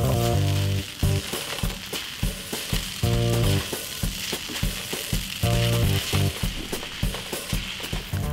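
Noodles sizzle and crackle as they are stir-fried and tossed in a hot pan, a continuous close frying hiss with rhythmic scraping over background music.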